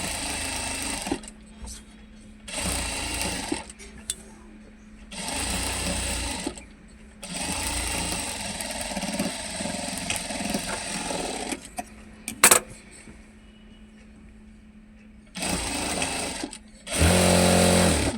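A sewing machine stitches the side seam of a ready-made top in several loud, close bursts of rapid whirring, separated by pauses in which someone talks.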